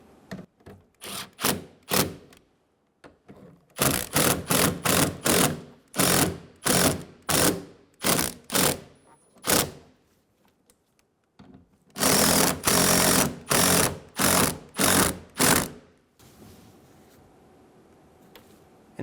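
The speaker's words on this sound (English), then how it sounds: "Snug the bolts down." Bursts of rapid ratcheting as the side mirror bolts of a 2009-2013 BMW 328i xDrive are snugged down, quick metallic clicks in repeated runs separated by brief pauses, close and loud.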